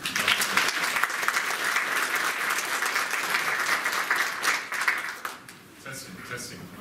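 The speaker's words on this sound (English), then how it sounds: "So give him a warm round of applause." Sustained audience applause fills a room at a talk on reverse engineering, dense and steady for several seconds before tapering off near the end.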